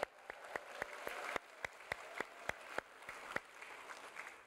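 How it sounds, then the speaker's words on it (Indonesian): A church congregation claps during a Christian service, the sound quiet and somewhat distant, with a dozen or so sharp, separate claps standing out over a soft, steady patter of applause. "Bisa dong tepuk tangan yang lebih baik?"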